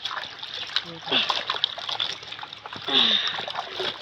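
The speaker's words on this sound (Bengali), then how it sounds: "এই দেখো গামলাটা ধুয়ে দিচ্ছি।" Water splashes and trickles as a basin is washed out at home, with short splatters and dribbling running steadily while someone talks over it.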